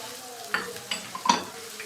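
Onions fry lightly in hot oil while being stirred, a soft sizzle punctuated by several scraping and clinking stirs of a spoon against the pan, close and quiet.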